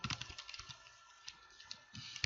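Clicky taps on a computer keyboard, irregular quick keystrokes in small clusters with short pauses, close and quiet.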